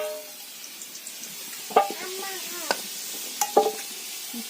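Potato pieces fry in hot oil in a pan while cooking beef and potatoes, a steady soft sizzle with a few sharp utensil clinks and scrapes.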